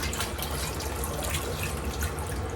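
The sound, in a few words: napa cabbage moved in and out of an ice water bath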